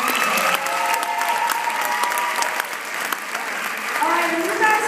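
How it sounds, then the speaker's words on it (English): Audience applause fills a live singing contest for campus finalists, steady and loud across the whole stretch, with a few voices calling out over the clapping. "Okay, let's give another round of applause."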